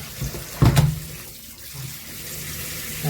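Tap water runs steadily into a sink while vegetables are rinsed piece by piece, with a brief louder splash near the start and a soft continuous flow after it, close by and with no talking.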